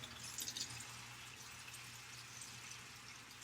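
A plantain being peeled under a running kitchen tap: a steady, faint stream of water runs throughout with light splashing, close and quiet, no talking.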